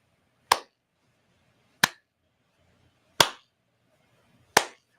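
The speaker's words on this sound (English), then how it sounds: "I want to slow clap." Four single, sharp hand claps spaced slowly and evenly about 1.3 seconds apart, close and alone against a quiet background: a deliberate mocking slow clap for RFK Jr.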